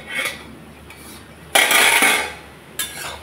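Metal utensil scraping and clinking against a cooking pot while stirring a Bengali dish, with a loud burst of clatter in the middle and a shorter one near the end, close by and without speech.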